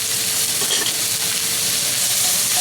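Liquid sizzles and hisses steadily in a hot pan during cooking of veal paprikash, a continuous close frying crackle with a faint steam hiss and no talk.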